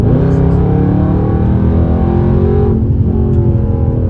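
A 2020 Dodge Charger Scatpack widebody accelerates with a loud, deep V8 engine roar whose pitch climbs steadily. The sound is heard close from inside the cabin and continues for the whole stretch.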